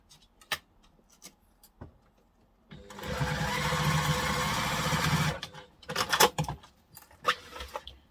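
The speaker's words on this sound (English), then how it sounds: "I want to sew down the bottom with the seam allowance that's given in the pattern" Sewing machine stitching the bottom seam of a reusable duffle bag, a steady run of about two and a half seconds between scattered clicks and handling noises.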